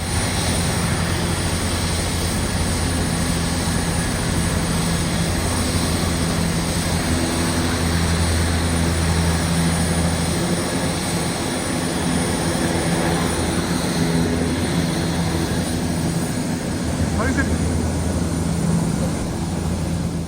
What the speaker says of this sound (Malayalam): ഹെലിപ്പാഡിൽ നിന്നും അറ്റ്ലാന്റിക് സമുദ്രത്തിന് മുകളിലൂടെ കാഴ്ചകൾ കാട്ടാൻ തയ്യാറായി കിടക്കുന്ന ഹെലികോപ്റ്ററാണിത്